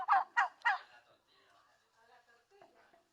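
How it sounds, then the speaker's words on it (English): A recorded female turkey hen clucking: three sharp, close calls in a quick row, then fainter, softer murmuring clucks trailing off. "Here's the female hen clucking that they can just do anytime to sort of stay as a group and keep in contact with other turkeys."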